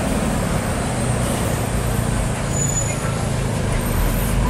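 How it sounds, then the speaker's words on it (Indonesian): A long queue of trucks rumbles past in congested night traffic on the road via Tembesi, a loud, steady roar of heavy engines with no break across the stretch. "Wah, ini barisan truk banyaknya teman-teman"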